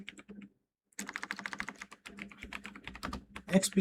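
A computer keyboard typed on in a quick run of clicks after a brief pause, close and clear, with an irregular rhythm and a few heavier keystrokes toward the end.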